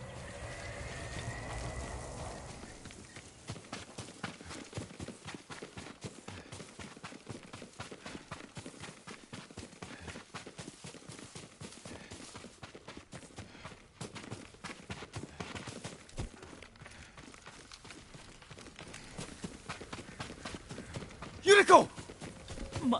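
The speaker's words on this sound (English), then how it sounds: "Yuriko's horse. She can't be far." In Ghost of Tsushima, a horse's hooves clip-clop in a steady, even rhythm for most of the stretch, close and fairly quiet, with a louder burst of movement near the end.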